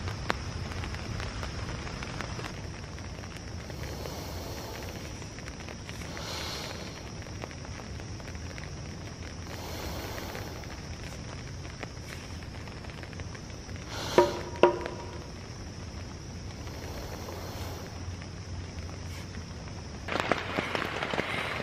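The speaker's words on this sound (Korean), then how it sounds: "텐트에 비 부딪히는 소리?" Steady rain patters on a three-person tent at a Florida campsite under palm trees, a constant close hiss of drops with a few louder taps and a brief rustle near the end.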